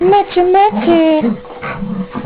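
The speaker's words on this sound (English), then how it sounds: "That's my dog." A pet dog named Maxie whimpers and whines in high, wavering tones, close and fairly loud, while a person calls to it.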